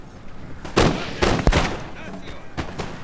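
Musket volleys crack out in Napoleon Total War, several sharp, separated bursts of massed fire spread over a few seconds above a low battlefield din.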